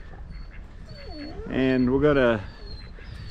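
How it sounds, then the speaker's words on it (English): Pet ducks brought along on a bass fishing outing let out a short, nasal burst of quacking close by, with a person talking just before and around it. "Hey, we got our ducks with us today"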